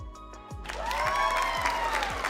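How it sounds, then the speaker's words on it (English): A hand-clap applause sound effect plays: a steady, fairly loud wash of crowd clapping with a bright tonal sweep rising over it and a few low thumps beneath. "I'm gonna give you a hand clap real quick."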